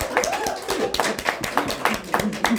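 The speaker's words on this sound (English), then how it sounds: "We have to clap at that." A few people clap in uneven, sharp bursts, close and distinct, with voices murmuring and exclaiming between the claps.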